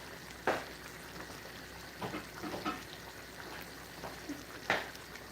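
A spinach and okra dish with basil simmering in a pot, a quiet bubbling sizzle broken by a few sharp scrapes and knocks of stirring, close and fairly soft.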